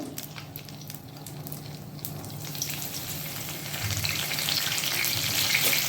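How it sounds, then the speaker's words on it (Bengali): Whole garam masala spices frying in hot oil for a Bengali mutton curry, a steady close crackling sizzle that grows slightly louder and busier toward the end, with no talking. "এবার আমি যে গোটা গরম মশলাটা ছিল ওগুলো এর মধ্যে দিয়ে দেবো"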